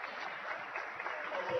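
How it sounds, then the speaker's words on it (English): A crowd at a Hutchinson Blue Dragons basketball game applauds, a steady wash of clapping under a commentator's speech, fairly faint. "Nice round of applause."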